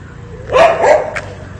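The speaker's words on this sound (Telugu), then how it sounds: "పదకొండు కుక్కలు విచ్చల విడిగా స్వేర విహారం చేస్తున్న విద్యానగర్లో" Stray dogs in a street in Vidyanagar, Karimnagar, give two loud, close barks in quick succession, followed by a brief sharp yip.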